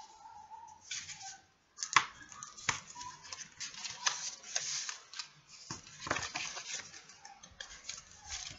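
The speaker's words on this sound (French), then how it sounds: "on va marquer donc les plis avec le plioir en os" A bone folder creases folds into paper for a small gift box, giving a run of light, close ticking taps and dry scraping strokes, irregular and fairly quiet.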